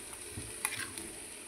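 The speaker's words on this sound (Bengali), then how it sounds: "সবজিগুলো প্রথমে ভাজছিলাম" Bottle gourd and other vegetables fry in a pan for khichuri with a soft, steady sizzle and a few light stirring clicks, quiet and close, with no talking.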